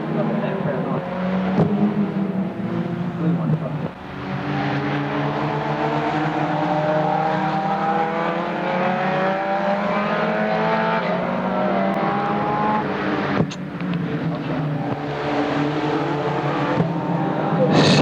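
Stock rod race cars, including a Nova saloon, roar around a track at a racing expo, engines droning and revving loudly with rising and falling pitch as they pass, while an announcer commentates over the noise.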